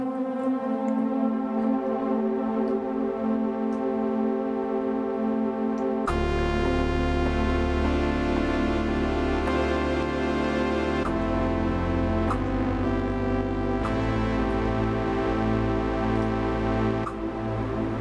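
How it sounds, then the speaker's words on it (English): A detuned wavetable synth in Serum 2, bathed in hall reverb with modulation, holds thick sustained chords that shift every few seconds. The tone is loud, wide and continuous, with slow movement and no speech. "The hall reverb sounds quite nice on Serum 2, I have to say."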